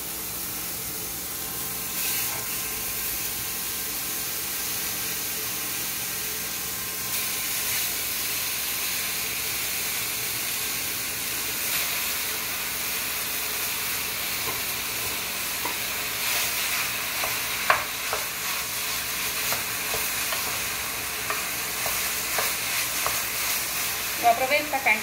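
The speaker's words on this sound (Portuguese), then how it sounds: "Eu aproveito que a carne está fritando" Meat sizzles steadily in a hot pan for baked rice, a constant crackling hiss with occasional pops and stirring scrapes, no talking.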